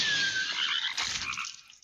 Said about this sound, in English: So I'm gonna start by Raining of Frogs.